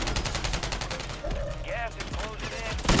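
Rapid bursts of gunfire in a Call of Duty: Warzone match fill the moment, sharp repeated shots layered with game effects while a voice talks over them.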